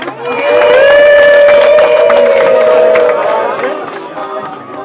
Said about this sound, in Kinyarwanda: ababyeyi bitababaje amashyi menshi